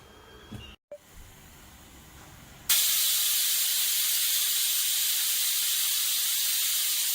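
A pressure cooker holding soya pulao gives a faint hiss and a brief clatter, then bursts into a loud, continuous, high steam whistle that holds steadily to the end, close by.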